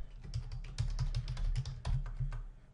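Typing on a computer keyboard, a quick irregular run of close, crisp key clicks with short pauses between bursts, entering a contact into a campaign.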